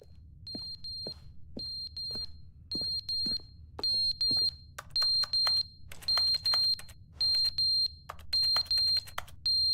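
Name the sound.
alarm beeping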